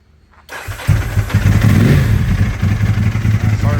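A Ducati 996R motorcycle fitted with a Termini exhaust, in very good condition, fires up after a brief quiet start and settles into a loud, steady, throbbing idle close by.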